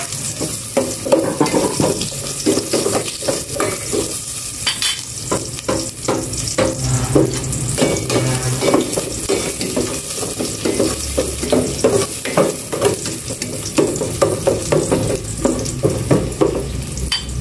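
Onions frying in a pan, a continuous loud sizzle with clattering and scraping of a utensil stirring throughout.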